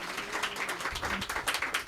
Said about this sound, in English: We just give her a great round of applause